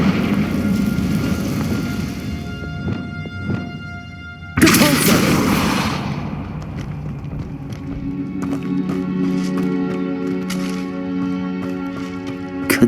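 A Confringo blast spell explodes in Hogwarts Legacy: one sudden, loud, full-bodied boom that rings out and decays, followed by lingering game ambience and rumble.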